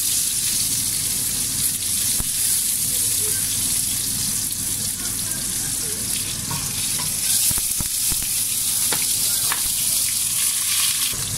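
Onions frying in a pan for couscous, a loud, continuous sizzle and crackle running throughout with scattered sharp pops and spatters.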